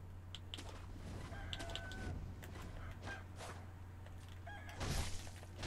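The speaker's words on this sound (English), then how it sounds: "No clucking for you." Chickens cluck intermittently in the video game Sekiro: Shadows Die Twice, with short, sharp calls scattered over a steady low ambient hum and a louder burst near the end; no one speaks.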